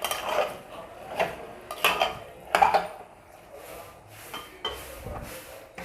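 A spoon stirring goat meat curry in a metal pot, with close, loud clanks and scrapes against the pot coming in irregular strokes, then quieter rubbing.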